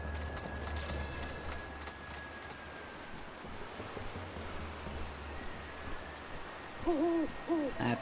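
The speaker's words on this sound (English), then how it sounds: "where's that fucking owl?" An owl in a video game gives a few low hoots near the end, rising over a steady hiss of ambient game noise; nobody speaks.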